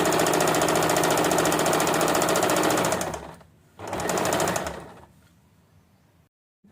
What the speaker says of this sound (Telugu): అట్లానే సేమ్ ఇట్లా కుట్టేసుకుంటూ మొత్తం మెడ పొడుగు అంతా కుట్టేసుకుంటూ ఇట్లా తీసుకుని నీట్గా కుట్టుకోవాలి